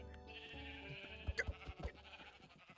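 A Minecraft sheep bleats in a few short bursts over quiet in-game background music, faint overall.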